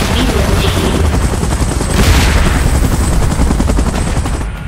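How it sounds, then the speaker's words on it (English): Helicopter in the mobile battle game PUBG Mobile, a steady loud rotor and engine drone filling the whole stretch, mixed with rapid gunfire and booming battle noise. "Chopper in position."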